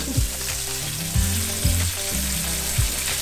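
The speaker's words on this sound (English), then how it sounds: "Now we're gonna add them to the sauce that we've had on low heat." Wild pork meatballs dropped one by one into marinara sauce simmering on low heat: a steady bubbling sizzle with several soft, close plops landing in the pan.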